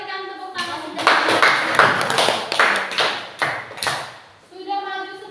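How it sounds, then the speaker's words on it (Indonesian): A classroom of sixth-grade children claps in scattered, uneven bursts over several seconds, with sharp individual claps rather than a uniform roar, and an adult voice speaks briefly at the start and end. "Ya, kita berikan tepuk tangan."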